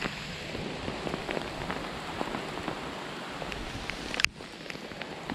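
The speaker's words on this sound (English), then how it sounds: "hopefully we can get out of this rain" Steady rain drums on an outdoor tarp, a dense continuous patter with scattered heavier drops, close and fairly loud, ending in a sharp rustle or thump before the rain carries on.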